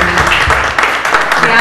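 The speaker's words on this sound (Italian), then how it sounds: "Ringrazio e faccio un applauso a Remo da Cirno." Applause breaks out at a book presentation, a dense wash of clapping from a seated audience, loud and close, with a voice speaking over the start.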